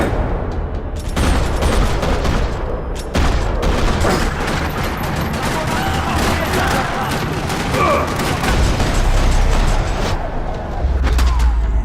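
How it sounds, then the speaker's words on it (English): Rapid bursts of gunfire and heavy booms crackle almost nonstop in a parking lot in the game Max Payne 3, loud and close, with a voice briefly audible amid the shooting. "Another parking lot rattling with gunfire."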